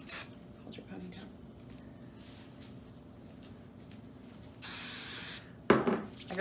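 Hairspray hisses out of a can in a short burst of about a second onto hands, close and moderately loud, preceded by quiet handling sounds and followed by a sharper rustle.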